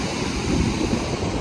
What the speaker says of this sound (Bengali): দেখো কত সমুদ্রের ঢেউ